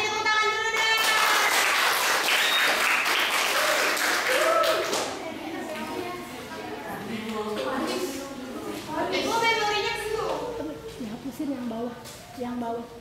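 Applause from an audience at a student drama rehearsal, dense clapping loud at the start and easing off, with voices talking and calling out over it.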